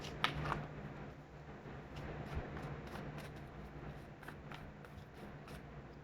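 Tarot cards shuffled by hand in a quiet room, a faint series of soft riffling and sliding bursts repeating at an uneven rhythm.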